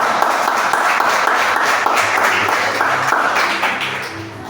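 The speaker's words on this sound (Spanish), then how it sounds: "Aplausos." Dense, sustained applause from a congregation at a Sunday church service with communion, steady and loud throughout before tapering slightly near the end, with no speech over it.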